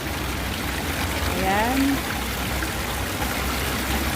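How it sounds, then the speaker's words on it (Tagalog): Steady water trickles and drips at a grotto, a continuous close splashing wash that runs throughout, with a brief voice speaking over it. "Ganda ng patakan ng tubig niya."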